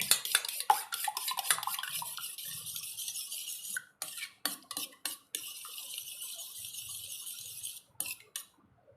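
Egg whites are whisked in a bowl for an oats omelette, giving a fast run of clinking, scraping utensil strokes against the dish, close and fairly loud, with a few brief pauses.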